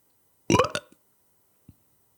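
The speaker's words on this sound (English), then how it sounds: "I'm a burp on command guy. I can do it." A man burps on command: one short, throaty belch close to the mic, followed a moment later by a tiny faint gulp, with silence around it.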